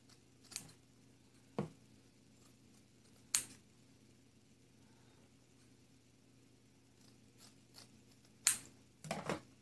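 Scissors cutting points into the ends of lined-up ribbon for a handmade poinsettia, heard as a few sparse, quiet snips spaced apart over a soft background hum, no talking.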